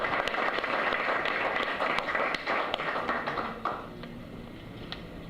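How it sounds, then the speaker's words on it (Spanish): Applause at a national forum on federal budget support for transparency: a scattered roomful of hands clapping, fairly faint and distant, easing off after a few seconds into a quieter tail. "Un aplauso para todos."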